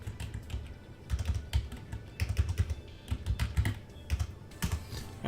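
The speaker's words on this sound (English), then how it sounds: "Let me just type this in Google." Rapid bursts of typing on a computer keyboard, clustered key clicks in uneven runs with short pauses, close and fairly quiet, with no talking.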